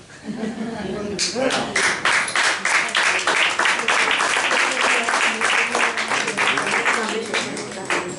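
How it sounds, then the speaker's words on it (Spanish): Audience applause following an Asturian poetry recital by Nel de Viego: a sustained, dense burst of many hands clapping that swells quickly and holds steady, close and loud, with some talk mixed underneath. "Cierto que tú te mereces un aplauso más largo."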